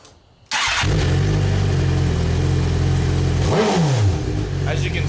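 A car engine cranks and catches after a spark plug change, then settles into a steady idle with a brief rev partway through, loud and close with no talk.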